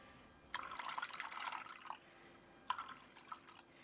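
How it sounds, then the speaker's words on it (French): Water pours from a container into milk in a home kitchen, a quiet splashing trickle in two bursts, a longer pour followed by a short second one after a pause, close up with no voices. "Et je vais rajouter pareil en eau."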